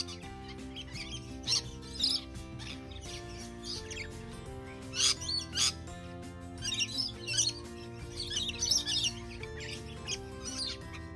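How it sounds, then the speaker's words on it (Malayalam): Parrots call in a wildlife park, bright chirps and squawks rising in scattered bursts over a steady bed of background sound, with no talk. "മറ്റൊരു സുന്ദരമായ കാഴ്ചയാണ് ഇവിടുത്തെ തത്തകൾ."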